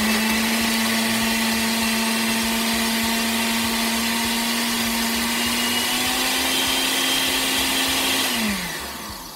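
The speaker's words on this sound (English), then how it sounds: "So you just put it in your blender and blend it" A blender whirs loudly and steadily at high speed blending boiled yam for several seconds, then winds down as the motor slows to a stop.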